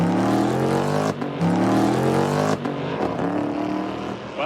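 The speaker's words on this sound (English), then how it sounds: "It's loud as hell. It's got that dang old Corvette exhaust on it." A Cadillac fitted with a Corvette exhaust roars loudly on a track, the engine revving hard with rising pitch in repeated pulls separated by short shift breaks, close and dominant.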